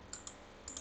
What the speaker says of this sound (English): and I'm typing RAFCE.